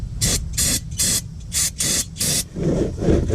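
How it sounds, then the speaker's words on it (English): Short bursts of pressurized brake cleaner spray hissing from an aerosol can during a Dodge Grand Caravan 3.8 oil change, six quick blasts in a row, followed by a lower rushing noise. "we'll take our can of brake clean. And we'll just spray everything off"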